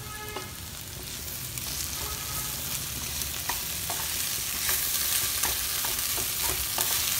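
Boiled rice being stirred into vegetables frying in a pan for green veg pulao, with a continuous close sizzle and repeated scraping and clinking of the spoon.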